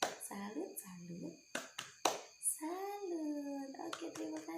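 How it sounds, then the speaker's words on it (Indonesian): A group doing the 'tepuk salut' clapping routine as an icebreaker, several sharp isolated claps spaced between chanted and spoken voices, fairly quiet overall. "Mari kita tepuk salut untuk kita semua."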